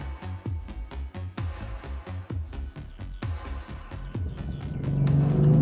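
A BMW M4 with a twin-turbo straight-six drives a lap. The engine rises and falls in quick repeated surges with a rumbling tone, then swells into a louder sustained roar at the end.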